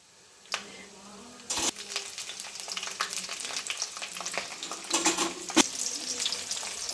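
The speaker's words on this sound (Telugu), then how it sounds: "నూనె కొంచెం వేగిన తర్వాత పచ్చిమిరపకాయలు వేసుకోవాలి" Green chillies and peanuts fry in hot oil, giving a steady close sizzle with sharp crackles and pops, and a loud burst of spitting near the start and again later, with no voices.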